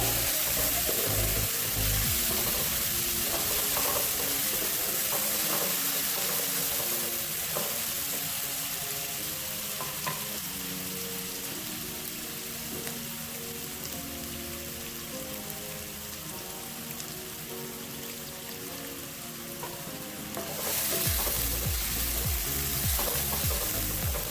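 Potato, peas and carrot for an aloo matar gajar sabzi fry in a pan with a steady broadband sizzle, stirred now and then, loud and continuous with no talk.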